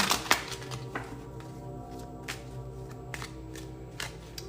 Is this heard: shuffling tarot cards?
yes